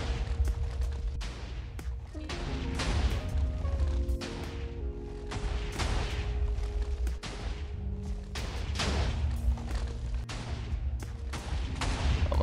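A TNT cannon fires in Minecraft, a rapid series of loud blasts and crashing explosions coming in dense bursts throughout, with a sustained musical tone underneath.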